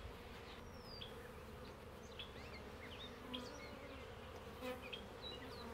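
Russian honey bees buzz steadily around an opened hive outdoors, a dense continuous drone with individual bees whining past close by, no talk.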